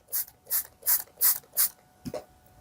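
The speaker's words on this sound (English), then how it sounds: "I'm just going to spray it." A hand spray bottle mists water onto the fabric sleeve of a vintage Ideal Toni doll's dress: five quick, evenly spaced hissing spritzes, then a softer squeak, close and clear with no voices.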